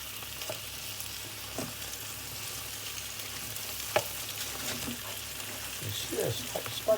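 Potatoes frying in a pan and being turned over with a spatula, a low sizzle under intermittent scrapes and knocks, louder toward the end.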